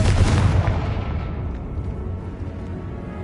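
Confringo spell explosion in the Hogwarts Legacy video game on PS5: a loud, booming blast at the start that rolls into a sustained, decaying rumble with no talk over it.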